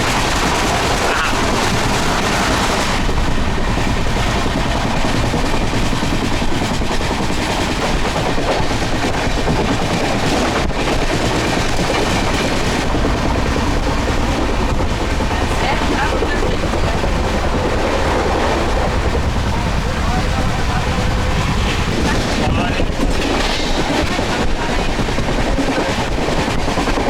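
A passenger train running from Mumbai to Pune rumbles steadily along the rails, its wheels clattering in a continuous loud roar heard from inside a carriage.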